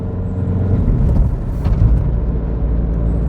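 A Vauxhall Astra G engine at full throttle climbing uphill makes a steady, low, droning roar heard from inside the car.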